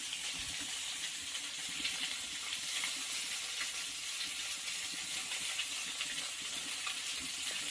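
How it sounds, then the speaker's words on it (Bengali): Fish frying in a pan, a steady loud sizzle and spatter of hot oil that hisses continuously up close without a break. "ভালো করে একটু ভেজে নিতে হবে মাছটাকে"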